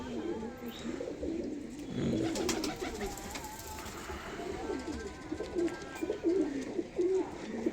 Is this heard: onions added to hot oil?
no